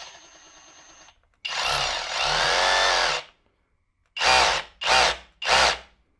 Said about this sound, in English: Let me go over to the hammer only mode and then maybe you can see how that differs.